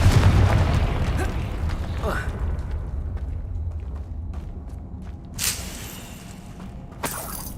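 Confringo fire spell explosions in Hogwarts Legacy: a heavy opening blast rumbles away, then two sharper bursts pop later against quiet ambience.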